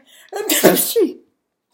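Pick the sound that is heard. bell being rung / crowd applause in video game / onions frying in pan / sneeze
sneeze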